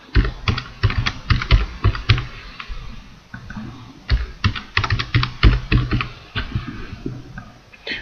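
Rapid typing on a computer keyboard while entering a new password, close and clear, with bursts of crisp key clicks broken by short pauses and no talking.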